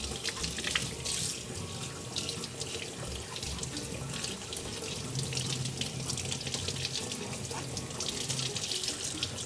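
Water runs steadily from a tap to rinse out a Wybot Hyson 2024 handheld cordless pool vacuum, a constant close splashing hiss with small gurgling variations.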